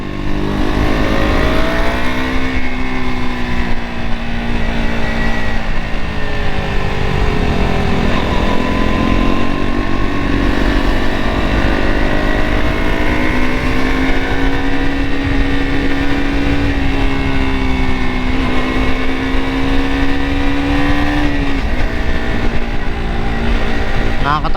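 A KTM RC 200 motorcycle engine runs loud and close, revving steadily with a rising and falling tone and no let-up throughout.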